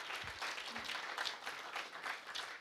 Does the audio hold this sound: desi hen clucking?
no